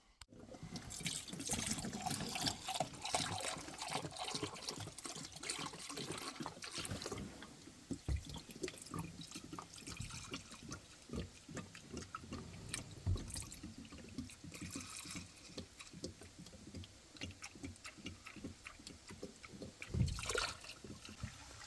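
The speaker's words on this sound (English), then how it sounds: "Just filling up the rest of the engine here with the diesel." Diesel is poured into the open cylinders of a 1958 Chevrolet Biscayne straight six engine that sat parked for over 40 years, a close, steady liquid glugging and trickling with occasional clinks and no talking.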